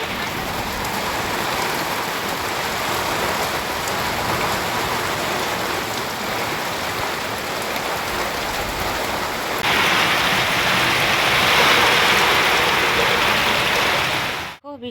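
A storm brings steady, dense rain pattering hard on surfaces nearby, growing heavier toward the end before it cuts off abruptly, with no voices.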